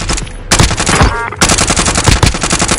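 Rapid automatic gunfire in the Warzone video game, loud and close, with dense bursts filling most of the moment and a brief lull in between.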